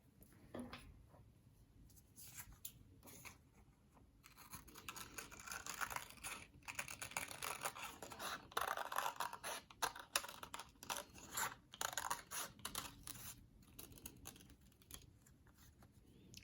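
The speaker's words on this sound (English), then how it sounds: "I'm going to cut along this inside line to make sure I'm cutting out a shape that's a little smaller than the peel" Scissors cut paper along a line for a citrus-peel collage, a faint, close series of small snips and crisp rustles repeating irregularly with brief pauses, quiet throughout and without talk.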